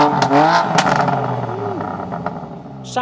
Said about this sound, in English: this F80 M3 has a completely stock exhaust setup and it sounds something like this